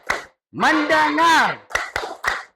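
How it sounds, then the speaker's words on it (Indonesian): Primary school children in a classroom chant a focus routine in unison, then clap several sharp, evenly spaced times in the gaps between the words. "Coba Bapak mau tahu seperti apa tepuk fokus."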